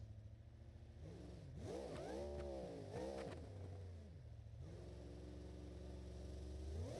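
A BeamNG.Drive monster truck with a twin-screw blower engine revs hard in repeated swooping bursts, its pitch climbing and falling sharply over a steady loud idle drone, close and alone.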